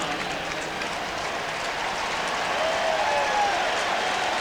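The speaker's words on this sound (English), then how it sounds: "And the crowd reaction to the 1st down." A football stadium crowd at a 1990 Raiders at Seahawks game roars steadily after a first down, a broad, sustained wash of cheering and noise with no clear voices on top.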